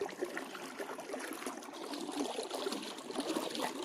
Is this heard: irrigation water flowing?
yes